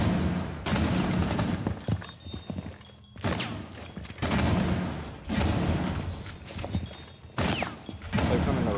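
Rapid bursts of gunfire from a video game shooter sound loud and close, broken by short pauses between volleys, with a sharp ring in places.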